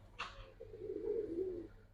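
A silver Giribaz pigeon of an old breed line gives one soft, low coo drawn out for over a second, close by and fairly quiet, after a brief brighter rustle.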